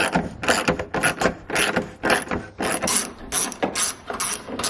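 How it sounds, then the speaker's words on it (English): A hand ratchet on a long extension turns out a 10mm bolt behind the headlight of a 2002–2005 Dodge Ram, giving quick bursts of close, crisp clicking in an uneven rhythm. "you can use a long extension like we got here and get to the 10mm bolt in here"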